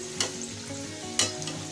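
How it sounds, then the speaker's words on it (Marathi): Sabudana vada frying in hot oil, a steady low sizzle with two sharp crackling bursts as the pieces are turned, close and fairly quiet, no voices. "कारण सर्व बाजूंनी हे वडे तळले गेले पाहिजेत।"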